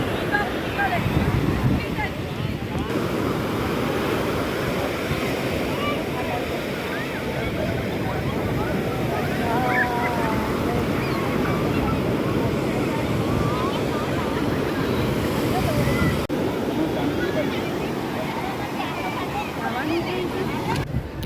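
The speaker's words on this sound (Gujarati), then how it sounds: "મોજા કેવડા મોટા આવે" Large sea waves roar and churn steadily along the shore at Somnath, Gujarat, mixed with gusty wind buffeting the microphone.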